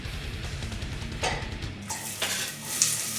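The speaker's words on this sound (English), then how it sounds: "I'm going to add it to a pot with about 2 tablespoons of vegetable oil and saute these." Chopped garlic and onion sizzle in about two tablespoons of hot vegetable oil while a spoon stirs and scrapes the pot, with soft clinks between the steady crackle.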